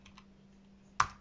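A single computer mouse click lands sharp and close near the end, after a stretch of quiet room hum.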